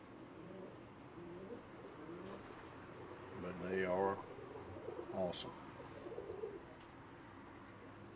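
Pet pigeons of a fancy breed coo softly in the background at a pigeon market, low repeated calls under someone talking close by.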